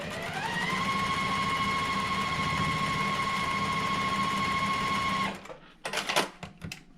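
A sewing machine pieces two quilt block pieces with a 1/4 inch seam, its motor whirring in a steady, close, even run for about five seconds before stopping, followed by brief handling clatter.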